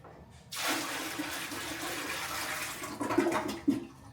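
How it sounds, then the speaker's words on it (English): Poured water rushes and gurgles down a toilet bowl during bathroom cleaning, a sudden close whoosh that swells and churns for a few seconds before tapering. "I want to fill this up and pour it into here so that way the water flushes all the way down"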